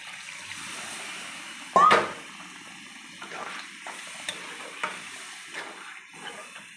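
Water poured into chicken kosha frying in oil in a pan, a brief loud splash and hiss, then quieter sizzling with light stirring knocks.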